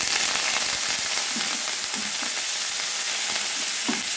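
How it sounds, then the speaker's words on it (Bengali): Curry leaves frying in hot mustard oil in a kadai, the oil previously used for frying pointed gourd, giving a steady loud sizzle with occasional sharper pops and crackles throughout. "কড়াইয়ে আমি সর্ষের তেল নিয়েছি, পটল ভাজা তেল ছিল, ওই তেলেই আমি ফোড়নটা দিয়ে দিব। প্রথমে আমি দিয়ে দেব কারি পাতা"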